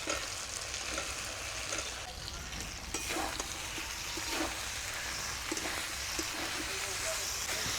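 Mixed vegetables fry in a pan for shukto, a soft continuous sizzle with occasional stirring scrapes, fairly quiet and close, with a voice speaking over it at times.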